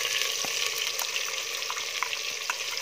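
Three large, finely chopped onions sizzle steadily in hot oil, a constant crackling hiss with occasional sharper pops and a few scraping stirs, for Kashmiri lotus stem yakhni.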